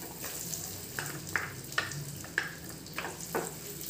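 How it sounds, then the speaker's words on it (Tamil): Onions frying in a spoonful of oil in a pan for paneer butter masala: a quiet, close sizzle with soft crackles and several light stirring scrapes at irregular intervals. "வெங்காயத்தை நல்லா வதக்கிக்கோங்க."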